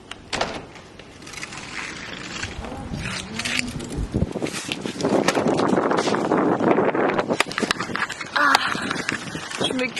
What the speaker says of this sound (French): Par contre, c'est trop de vent.